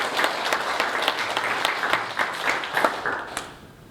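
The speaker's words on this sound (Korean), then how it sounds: "큰 일을 행하신 우리 하나님께 영광의 박수 올려드리겠습니다." A church congregation claps together during a Sunday worship service, a moderately distant, steady patter of many hands lasting a few seconds before tapering off.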